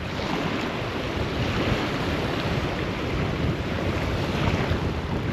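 Strong wind buffets the microphone on an estuary shore during a fishing outing, a steady broadband roar that never lets up, with surf washing in underneath and no one speaking.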